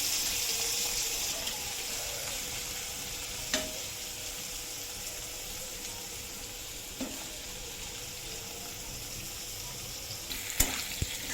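Soybean chunks fry in oil in a pan for a home dinner, giving a steady, quiet sizzling hiss that runs throughout, broken by a few brief utensil clinks near the end.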